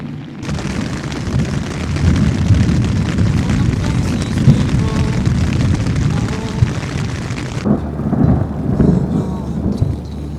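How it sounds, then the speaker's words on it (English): A thunderstorm on a Colorado mountain trail, with loud, continuous rolling thunder and heavy rain close by. The rumble stays dense for most of the stretch, then eases into lighter rain with softer rumbles. "As I was waiting for the storm to pass"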